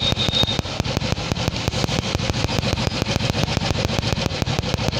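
An old-model Royal Enfield motorcycle engine running steadily up close, with a fast, even thumping beat and a sharp ticking rhythm throughout, no talking.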